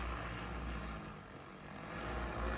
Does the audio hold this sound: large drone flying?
yes